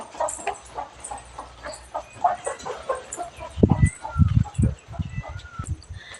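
Farmyard chickens cluck in short bursts near goats and fields, mixed with a few dog-like barks and louder thumps near the end, while people talk nearby.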